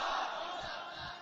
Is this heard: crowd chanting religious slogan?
yes